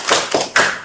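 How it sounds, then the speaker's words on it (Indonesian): Classroom clapping for a student during a microteaching lesson, three loud close bursts of hand claps in quick succession. "Beri tepuk tangan untuk Mbak Ines."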